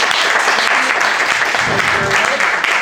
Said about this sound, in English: So please round of applause for these two gentlemen.